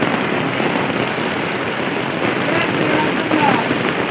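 Steady rain falling on a Bangladeshi village on a rainy-season day, a dense, even patter close by throughout, with faint voices in the background.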